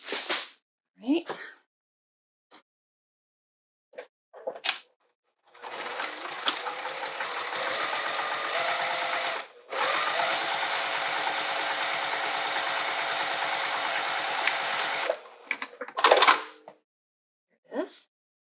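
A sewing machine running top stitching across a fabric wallet: two long, steady, whirring runs split by a short pause, framed by scattered handling clicks and thumps at the start and end.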